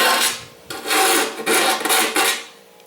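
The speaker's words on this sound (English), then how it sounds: "You can take either a rat tail file or a square file and slot this out" A rat tail file rasps back and forth, cutting a slot in a part for a chain drive conversion on a rock tumbler. The strokes are loud, close and gritty, with about four long passes and brief gaps between them, and no voices.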